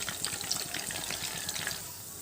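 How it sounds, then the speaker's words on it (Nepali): Paneer cubes frying in a pan give a soft, steady sizzle with light crackles, quiet and close, with no talk. "अब चाहिँ म यसलाई ब्राउन हुने गरी यतिकै फ्राई हुन दिन्छु एकछिन।"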